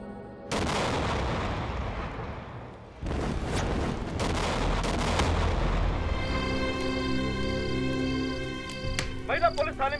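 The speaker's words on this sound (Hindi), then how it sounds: "महिला पुलिस थाने में हुआ बम ब्लास्ट।" Bomb blast at a women's police station: a sudden loud boom at the start, then a second heavy burst a few seconds later, followed by sustained rumbling roar and dramatic tonal music building over it.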